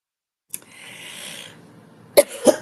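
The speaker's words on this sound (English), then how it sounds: "Sorry about the coughing." A woman gives a short, breathy cough followed by two sharper coughs a moment later, close and fairly quiet in a still indoor room.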